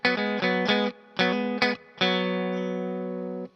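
A distorted electric guitar plays a short riff, chopped chords in two quick groups, then rings out on a sustained final chord.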